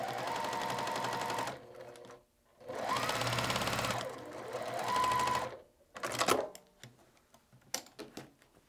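Sewing machine stitching an all-wool quilt runs in three steady bursts of rapid, even needle ticking, close and moderately loud, with brief pauses and a few scattered clicks near the end.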